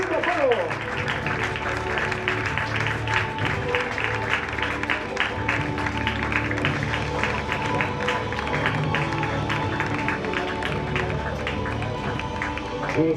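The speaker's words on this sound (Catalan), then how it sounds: "Un fort aplaudiment per totes les obres del Reial Club de Polo." A crowd at a Catalan field hockey final claps steadily for the Reial Club de Polo players, a dense sustained patter of applause with a background of voices and chatter throughout.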